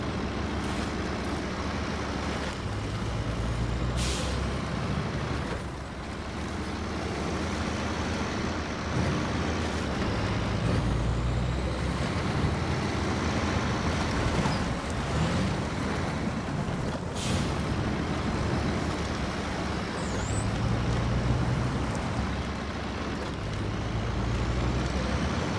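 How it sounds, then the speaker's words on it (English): Loadstar diesel truck engine in the SnowRunner video game, a steady low rumble running continuously with faint hisses and clunks on top, no voices. "This thing has what they call a Loadstar engine."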